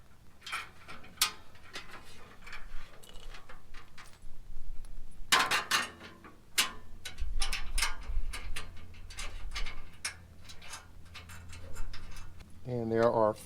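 A ratchet tightens 13 mm bolts with washers while an Ironman4x4 front bumper is fitted to a 100-series Land Cruiser, giving close, intermittent clicks and metal knocks while someone talks throughout.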